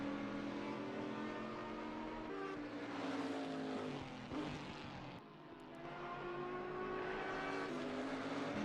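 Race car engine in Assetto Corsa Competizione, a British GT4 championship race at Brands Hatch, droning steadily with rising and falling pitch as the car passes, loud and continuous with no talk.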